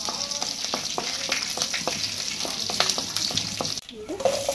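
Mustard seeds, urad dal, chana dal and green chillies crackling in hot oil as tempering, a dense close sizzle dotted with rapid popping and spatters throughout.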